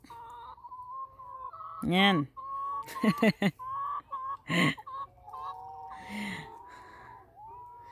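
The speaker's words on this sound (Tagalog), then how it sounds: "Tapos yan po, mga manok." Chickens cluck and squawk nearby in bursts, with a person speaking briefly over them.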